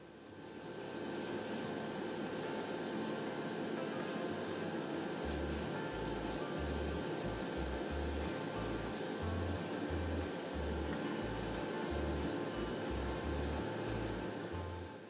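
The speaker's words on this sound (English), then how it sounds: "moved on to applying the second and final coat of clear" Clear lacquer sprayed as a final coat onto a Porsche 911 Singer-style model car body, a steady hiss of the spray running continuously for the whole stretch, with faint rhythmic low thumps underneath.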